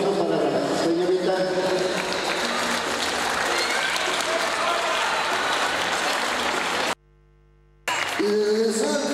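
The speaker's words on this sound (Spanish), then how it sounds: "Fuerte los aplausos para la señorita" Crowd applause for a woman at a boxing event, loud sustained clapping and crowd noise with an announcer's voice over it, cutting to a brief silence near the end before the noise resumes.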